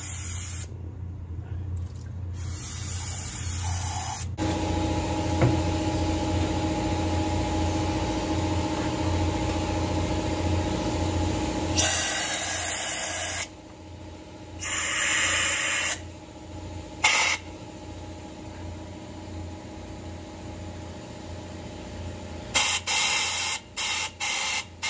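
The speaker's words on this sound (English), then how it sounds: "I might use a little bit of brake clean." Brake cleaner sprayed from a can into the dirty fuel bowl of an old Coleman diesel heater. The hiss comes in several bursts of differing length, with a long, steady stretch at the start and short blasts near the end.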